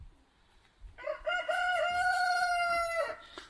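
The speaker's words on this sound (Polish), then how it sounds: "To ja może ten kogut go przywołuje zamiast ciebie," A rooster crows once, a loud drawn-out call lasting about two seconds, fairly close against a quiet outdoor background.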